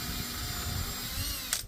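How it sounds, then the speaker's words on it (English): A power drill whines steadily and loudly close by as it pre-drills screw holes in pine boards, with a brief click near the end. "I'm just pre-drilling them"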